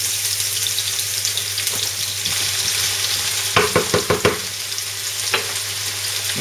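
Sliced zucchini frying in hot oil, a steady close sizzle with a burst of sharp crackling pops in the middle and another pop shortly after, no voices.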